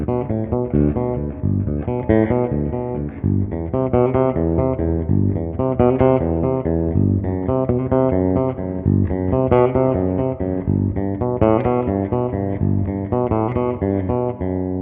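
Bars 1 to 4 of a Bach cello prelude played on electric bass guitar, a steady stream of evenly plucked arpeggiated notes in a continuous rhythm, close and clear with no talking.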